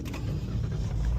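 A car engine running after being started with a portable 4-in-1 jump starter, a steady low idle rumble close by with no talk over it.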